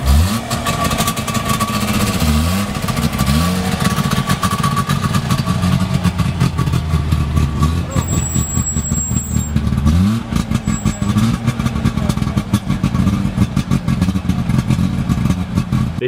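A Saab 92B with a two-stroke engine runs close by, its rattly, buzzing idle rising into several revving swells and dropping back, loud and continuous with a clattery edge, no talking over it.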